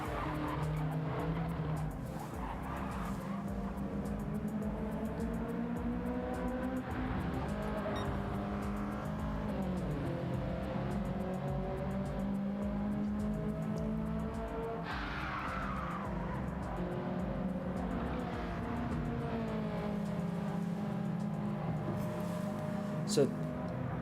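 Race cars lap the Dragon Trail Seaside track in a racing video game during a Category 1 Clubman's race, engines droning and rising and falling steadily with tire squeals, while a commentator talks over them throughout.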